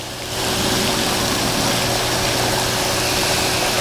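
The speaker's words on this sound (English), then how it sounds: "I'm using an air compressor right now and injecting air just for illustrative purposes." An air compressor forces a violent blast of air up through the bead bed of an automatic PolyGeyser bioclarifier filter, a steady, loud broadband roar with a low pumping hum that continues unbroken throughout.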